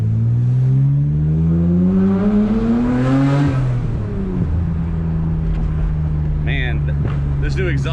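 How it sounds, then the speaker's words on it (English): A Nissan Skyline R33 GTR with a new exhaust revs up through the gears, a loud rising engine drone that drops and settles into a steady cruise hum, heard from inside the car with road noise. "this new exhaust, it sounds so much better"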